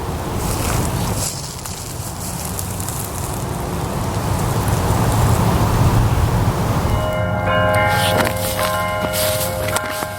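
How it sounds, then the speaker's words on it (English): Church bells ring out distantly toward the end, their tones emerging over a steady wash of rain or wind noise, at dusk in Raleigh. "So we've got the church bells going on."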